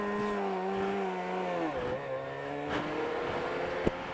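A 500cc Grand Prix racing motorcycle engine being restarted and revved, its loud, steady drone swinging up and down in pitch, holding close and continuous throughout.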